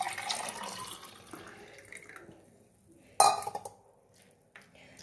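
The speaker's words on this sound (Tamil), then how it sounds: "இப்போ நம்ம வடிகட்டின கேரட் ஜூஸ் ஊற்றிக்கலாம்." Filtered homemade carrot juice poured into a tumbler, heard as a brief close splash and trickle of liquid against glass, with soft kitchen sounds before and after.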